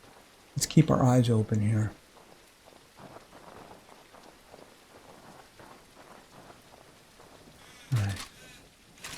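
Rain falling steadily in the survival video game No One Survived, a soft continuous wash of drops with faint rumbles, running under someone talking at the start and end.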